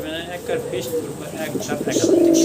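A pair of domestic desi pigeons coo close by in soft repeated throaty rolls while someone talks over them.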